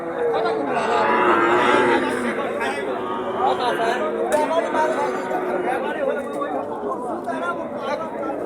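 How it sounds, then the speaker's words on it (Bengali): Cattle at a busy cattle market in Joypurhat give several drawn-out moos, some near and some farther off, over constant crowd chatter and people talking. "কত সুন্দর সুন্দর গরু।"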